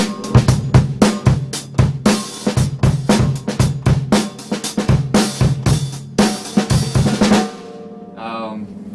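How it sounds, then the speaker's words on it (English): Drum kit playing a straight rock and roll beat, steady kick, snare and cymbal hits in a driving pattern, loud and close, ending with a brief cymbal ring as the groove stops. "So just rock and roll, something like this maybe."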